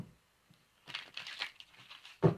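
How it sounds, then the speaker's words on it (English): Playing cards being shuffled, soft riffling and crinkly papery bursts in a quiet room, ending with a sharper louder snap, heard close and faint with no talk. "So give me a moment while I shuffle."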